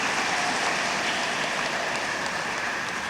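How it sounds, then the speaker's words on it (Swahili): Audience at a nun's 25th jubilee celebration applauding for the sister, a steady, dense patter of many hands clapping at a moderate distance without pause. "tumpigie makofi sister"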